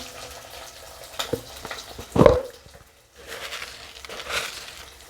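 Onions and ingredients for egg adai curry sauté in a pan with rock salt, giving soft sizzling and scraping stir sounds with one louder clattering scrape midway, then a brief quiet before the frying resumes.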